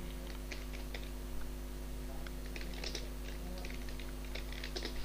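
Quiet, quick keystrokes on a computer keyboard while a wedding card design is laid out, tapping in irregular bursts over a steady low electrical hum, with no talking.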